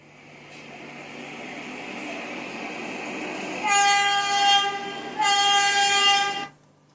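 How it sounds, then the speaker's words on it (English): Two loud, sustained chords from a train horn blare in the Trainz railway simulator game, standing out over a steady rolling rail rumble, with a short gap between the blasts and no talking. "How come they can blow their horns that loud in the city and no one's going to complain?"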